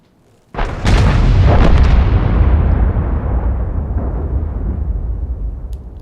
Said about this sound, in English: And there's the explosion sound.